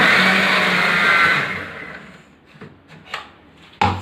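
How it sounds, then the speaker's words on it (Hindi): A mixer grinder grinding gravy puree for malai kofta whirs loudly for over a second, then winds down into quieter clattering and a sharp knock at the end. "अब इसका हम मिक्सी में पीस लेते हैं"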